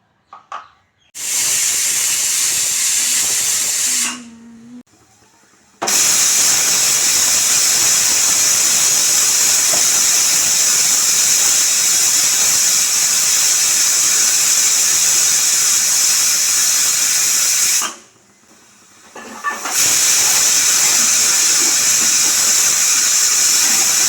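A pressure cooker cooking tomato dal lets out steam in a loud, sustained, shrill hiss that runs for long stretches, broken by two short quiet gaps, close by and with no talk.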